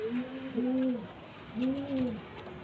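Madrasi pigeons coo twice, two soft, rounded calls in a row, heard close and clear against faint background noise.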